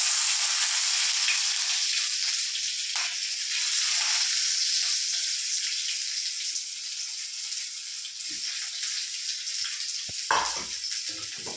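Garlic, shallots, ginger and green chili fry in hot oil for a beef curry, giving a loud, bright, steady sizzle with a few soft stirring knocks near the end.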